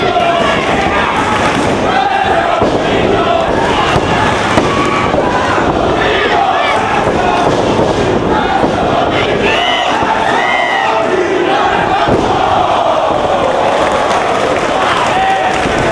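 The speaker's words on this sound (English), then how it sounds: "And you heard the crowd. Some fans chanting for Loki." A loud wrestling arena crowd roars and chants continuously during a professional wrestling match, with occasional thuds from the ring beneath the dense, close crowd noise.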